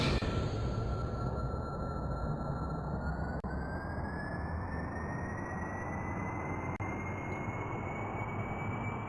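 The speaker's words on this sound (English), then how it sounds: "Engine start." A spacecraft engine in a space-flight video game roars steadily at liftoff, a dense continuous rumble with a rising whining tone running through it, loud and unbroken.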